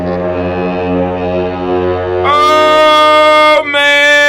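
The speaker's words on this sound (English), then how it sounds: "let's sound this war horn." A war horn blows a long, loud, brassy blast that rises in pitch partway through and dips briefly before sounding again, with no talking over it.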